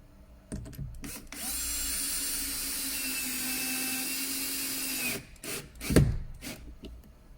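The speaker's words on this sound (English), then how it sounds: "so now drill another hole on the bottom" A power drill whines steadily for about four seconds as it bores a hole into a 2014 VW Tiguan door during a speaker install, followed by a few clunks and handling knocks.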